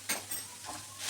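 Minced meat with coriander stirred in a pan, with a few soft scrapes and clinks of a spoon against the pan over a light sizzle.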